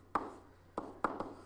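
Marker or pen strokes on a board while working a math equation, four short scratchy bursts in irregular rhythm, close and fairly faint, with quiet pauses between.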